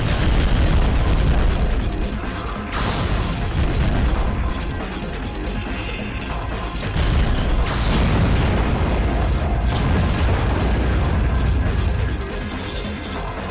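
Underwater combat in the AquaNox video game, with heavy booming explosions and gunfire over continuous loud mechanical rumble, dense and close throughout without talk.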